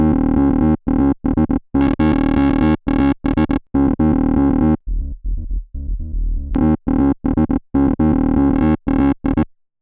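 A heavily distorted electric guitar through a modified Cytomic The Scream pedal plays choppy riffs in short bursts, loud and gritty, with a brief quieter, muffled-tone passage in the middle.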